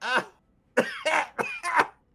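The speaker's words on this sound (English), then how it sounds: "You hear what sounds like a woman's voice just kind of coughing in the back" A woman lets out a short cough, then after a pause a run of several harsh, throaty coughs close by.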